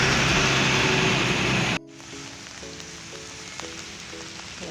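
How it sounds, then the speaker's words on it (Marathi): Heavy rain after two days of steady downpour, with floodwater filling the road and rivers: a loud, dense wash fills the first two seconds, then gives way to a quieter, steady patter with faint scattered taps. "दोन दिवस झालं सारखा पाऊस चालू आहे"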